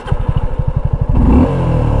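A single-cylinder Suzuki V-Strom SX 250 motorcycle engine cranks in rapid, even pulses, then catches and settles into a loud, close idle.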